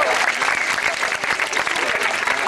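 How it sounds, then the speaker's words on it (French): Loud, sustained applause from an audience, dense clapping filling the whole stretch with a faint voice or two beneath. "Allez, on s'applaudit tous ensemble,"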